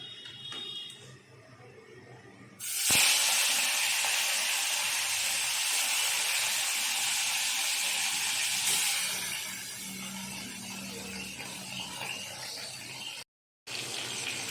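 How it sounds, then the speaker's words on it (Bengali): Tilapia pieces coated in salt and turmeric drop into hot oil in a kadai, setting off a sudden loud hiss that holds as a steady sizzle and then eases to a softer frying crackle, with a brief dropout near the end. "এবার কড়াইয়ে তেল গরম করে নিয়েছি। এবার মাছগুলো একে একে ছেড়ে দেব।"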